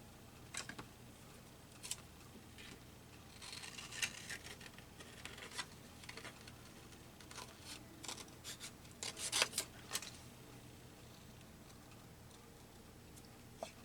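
Scissors cut through a typewriter ribbon in a quiet craft room, giving scattered soft snips and ticks, a denser cluster near the end, with no voices.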